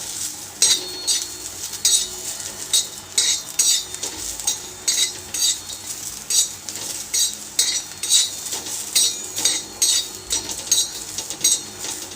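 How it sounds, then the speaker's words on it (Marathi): Metal spoon scraping and clinking around a frying pan as garlic is stirred in for Marathi-style crispy chicken leg fry, a steady rhythm of close, bright scrapes with a faint sizzle underneath and no talking. "आता हे लसूण टाकूया."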